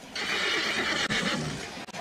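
A horse whinny sound effect plays loudly in a Cuban baseball broadcast of Granma versus Industriales, a single drawn-out neigh lasting nearly two seconds with no talk over it.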